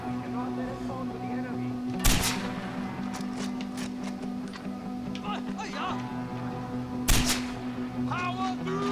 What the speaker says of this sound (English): I'm gonna snipe whatever's around here.